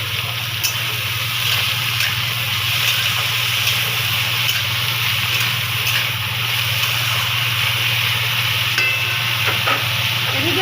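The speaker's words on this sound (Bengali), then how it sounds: "আমার অল্প সবজি তো তাই একসঙ্গে ভেজে নিচ্ছি" Continuous sizzling of vegetables frying in a pan, a dense even hiss with faint scraping of stirring, close and fairly loud.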